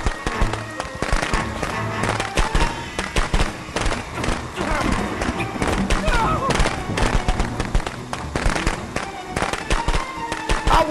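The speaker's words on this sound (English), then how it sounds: "I don't care how many goddamn firecrackers you throw down" In Friday the 13th: The Game, firecrackers crackle in rapid, dense bursts throughout, loud and continuous, mixed with game noise and someone shouting over them.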